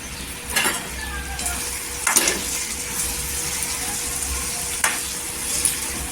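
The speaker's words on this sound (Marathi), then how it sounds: "दोन चमचा मसाले छान असे तेलावर परतून घ्यायचे" Turmeric, Kashmiri chilli powder and Agri masala sautéing in hot oil, giving a low, steady sizzle with a few sharp scrapes of a spoon stirring the spices.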